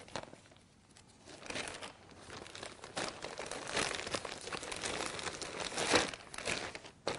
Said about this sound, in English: we put it in a 2-gallon Ziploc bag